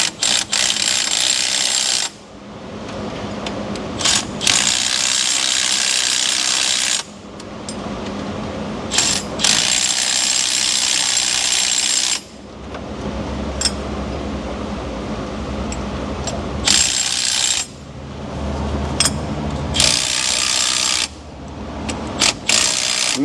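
A ratchet tightening bolts on a Ford 5.4 Triton engine during a tensioner and chain guide repair, in repeated bursts of fast clicking separated by short pauses, close and loud with no talk.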